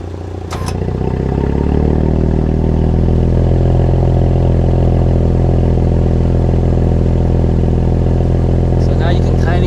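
A 2021 Audi S5 exhaust with its valves open in dynamic mode settles after a brief click into a steady, deep, close rumble that holds at a constant level for several seconds.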